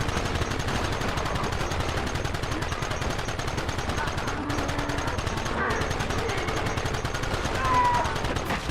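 Rapid, dense gunfire in Red Dead Redemption, loud continuous volleys and machine-gun bursts running throughout, with shouting voices mixed in.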